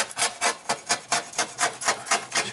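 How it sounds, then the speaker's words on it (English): A blade scrapes old tint off a vintage Airstream window pane in quick, even strokes, about a dozen rhythmic rasping passes close to the microphone, with no talking. "Basically, just like any tinting, you're going to come in and scrape it off."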